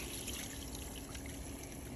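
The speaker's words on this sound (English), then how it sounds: "you're going to take your garden hose and you're going to just lightly put some water in here." Water from a garden hose trickles gently into the head of a gas-powered soft wash pump while priming it, a soft steady close-up burble without talk.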